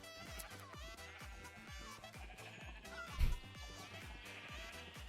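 Sheep bleating in a modded Minecraft survival game, heard over steady background music with rhythmic low beats, a louder burst standing out near the middle.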